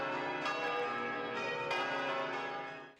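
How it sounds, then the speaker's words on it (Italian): Church bells ring continuously with rich overlapping tones, a steady festive peal that fades slightly toward the end. "le campane sembrano salutarlo con un canto di festa"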